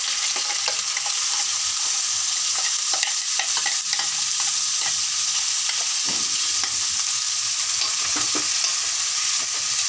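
Spices tempering in hot oil for thuthuvalai chutney give a loud, continuous sizzle, with light stirring scrapes throughout.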